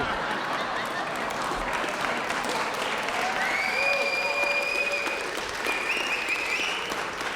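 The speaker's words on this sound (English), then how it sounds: "Okay, maybe it's because of applause." Audience applause at a 2021 Plano City Council mayoral forum, dense sustained clapping from a room full of people filling the whole stretch at steady loudness.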